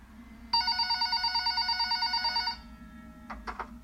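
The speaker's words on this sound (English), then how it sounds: "About an hour later, the phone on the counter rang." A telephone on a counter rings with a rapid, trilling electronic bell lasting about two seconds, clear and fairly close, followed by a couple of soft knocks in a quiet room.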